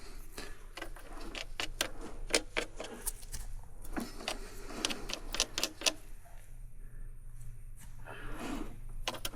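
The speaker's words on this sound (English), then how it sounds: "I'm just spinning the wheel a little bit." A Murray Snow King snowblower friction wheel, model 270-3004, is spun by hand, giving a close, uneven run of dry mechanical clicks, ticks and light rattles with no talking.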